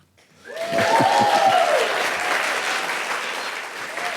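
A live theatre audience breaks into applause at a podcast stage show, the clapping swelling quickly from quiet into a full, sustained roar that holds steady, with a brief voice or cheer near the start.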